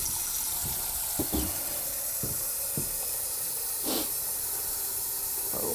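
Water running from a kitchen tap onto a pan while cooking: a steady bright hiss of flowing water with occasional clinks and knocks of cookware, close and fairly loud, with no speech.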